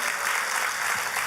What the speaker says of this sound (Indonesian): Boleh kita beri tepuk tangan yang paling meriah.